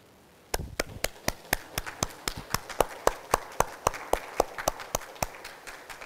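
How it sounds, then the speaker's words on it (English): An audience claps in a steady rhythm, each sharp slap distinct and evenly spaced, like a small group applauding together at a gathering. "we're going to give you a round of applause"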